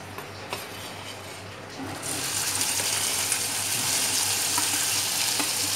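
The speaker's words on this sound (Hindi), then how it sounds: "फिर हम उसमें ये चॉप्ड ओनियंस डालेंगे।" Chopped onions hit hot oil already crackling with cumin seeds and asafoetida, a steady sizzle that swells to a loud, dense hiss partway through.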